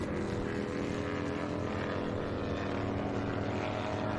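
An Indian motorcycle races in a Bagger GP event, its engine giving a continuous, steady drone with a strong low rumble and layered harmonic whine at a sustained pace, with no voices.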